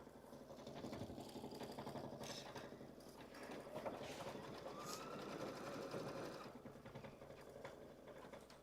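An embroidery machine stitches steadily, tacking fabric down for a Kimberbell spa-themed project, with a continuous mechanical hum and rapid needle chatter at moderate level.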